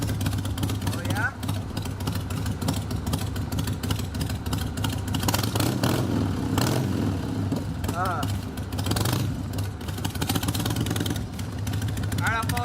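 A motorcycle engine runs steadily and rises in pitch as the bike pulls away outdoors, with a constant mid-range drone and wind buffeting, under intermittent talk.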